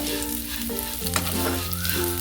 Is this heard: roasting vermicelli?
yes